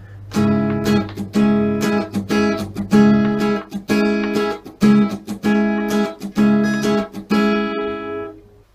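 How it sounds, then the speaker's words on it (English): An acoustic guitar is strummed in a steady rhythmic pattern, with short choppy palm-muted strokes breaking up the ringing chords. "add a muting effect in this strumming pattern"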